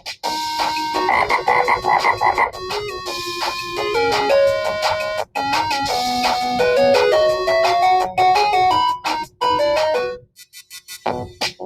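Toad croaking in a dense, rapid, continuous rhythm, loud and close, with layered tonal calls running for about ten seconds before stopping, then a few softer trailing croaks; no talking.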